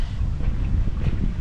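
Wind gusts into the microphone at a tree-shaded free fishing spot for tilapia in Tanza, Navotas, a close, rumbling buffet that stays low and continuous.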